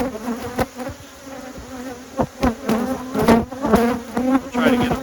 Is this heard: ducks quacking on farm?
no